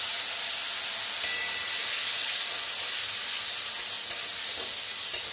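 Spice paste with Kashmiri chili powder and a splash of water fries in oil for a jackfruit (enchor) kalia, giving a steady close sizzle and hiss with a few light stirring clicks, no voices.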